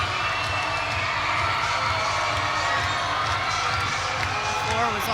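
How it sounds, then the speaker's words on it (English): A crowd at a Stanford versus North Carolina gymnastics meet in Maples Pavilion cheers loudly and continuously in a large indoor arena, a dense roar of voices with an announcer's voice talking over it. "the crowd's starting to get fired up here in Maples"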